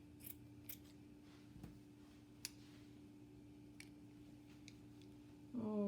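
Scissors snip through paper to cut out a leopard shape for budget fall decor, with a handful of faint, sparse, close cuts over a steady low background hum.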